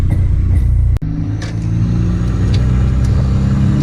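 Volvo 740 turbo engine pulling after a boost increase, a loud steady engine rumble heard from inside the car, with a brief dip and a click near the start.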